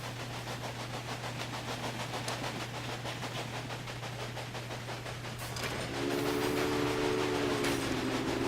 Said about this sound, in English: And that train should just breeze on through.